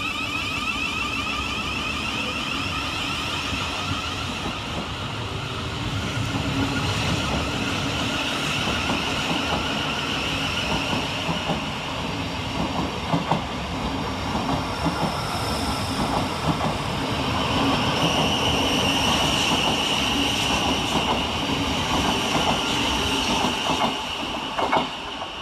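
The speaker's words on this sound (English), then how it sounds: "Departing over on the far side is 700 112, working the 11:59 Thameslink service from Brighton to Bedford." A Thameslink Class 700 unit pulls away on the far platform line at Preston Park station, its motors humming and wheels clicking over rail joints with faint squeals as it gathers speed.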